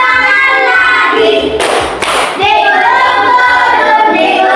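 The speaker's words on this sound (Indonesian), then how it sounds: "Tepuk tangan lagi." Hands clapping during a children's action song in a classroom lesson, a short double burst of claps over the steady music and singing.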